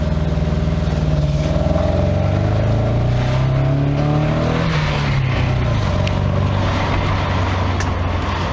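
Nissan N13 Pulsar with a CA18DE engine misfiring on three cylinders, a loud, uneven, rough drone that rises and falls in pitch as the revs change, heard close up with no talking.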